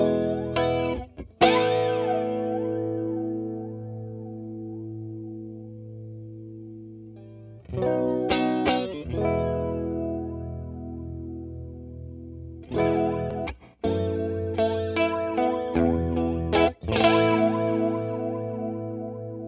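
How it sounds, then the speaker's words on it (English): Electric guitar run through the flanger setting of a Donner multi-effects pedal, several strummed chords and riffs with sweeping, whooshing swirl, clear and up close, separated by short pauses, no talking. "And then finally, the flanger."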